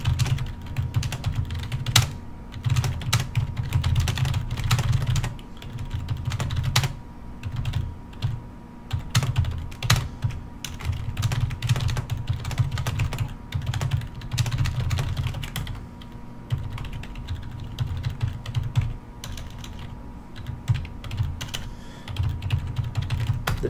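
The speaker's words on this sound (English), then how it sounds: "I just got to finish typing this out." Steady clicking of typing on a computer keyboard, close and continuous for over twenty seconds in bursts with brief pauses, over a low constant hum.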